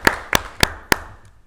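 Four sharp, evenly spaced hand claps ring out close by at a school board of education meeting, then stop abruptly, leaving a quiet room.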